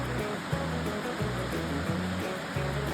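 Rocky Falls waterfall in Missouri, a steady close rush of falling water that runs without a break for the whole stretch, with a few low thuds and rumbles showing through.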